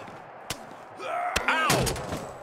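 In the WWE 2K23 wrestling game, an Exploder suplex ends in a sharp body-slam thud, with a short crowd swell and a commentator talking around the impacts.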